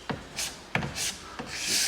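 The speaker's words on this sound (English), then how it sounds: "Always ensure when you're scraping that you're not bending the scraper" A plastic scraper scraping wax off a ski, three short rasping strokes, each a brief scrape followed by a softer hiss, close and fairly quiet.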